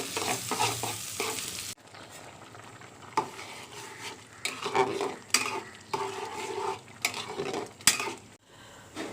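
Broken rice frying in a pan, an initial loud sizzle followed by repeated scraping stirs and utensil knocks against the pan, close, moderately quiet, no one talking.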